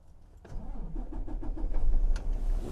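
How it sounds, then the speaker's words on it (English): A truck's diesel engine cranks briefly and then catches during a pre-trip inspection, settling into a rumbling idle that grows louder and steadier, heard close with no talk. "I'm now going to start my engine back up, build my air pressure back up."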